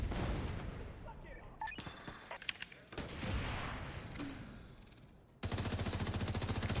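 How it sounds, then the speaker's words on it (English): Bursts of gunfire and explosions in a video game, with sharp cracks and booms at irregular intervals, then a dense rapid rattle of automatic fire near the end. "What was that explosion?"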